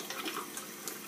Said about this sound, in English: you're going to turn water on at the faucet